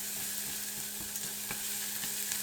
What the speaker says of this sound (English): Add the minced garlic and saute until fragrant.